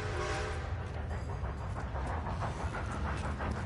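A train in the video game Red Dead Redemption approaches with a steady, loud rumble and hissing steam, building continuously over a few seconds with no talk.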